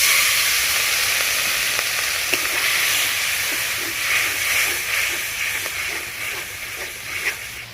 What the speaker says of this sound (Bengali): দিয়ে দিব লঙ্কা গুঁড়ো, হলুদ গুঁড়ো, গরম মশলা গুঁড়ো, আর অল্প পরিমাণ জল।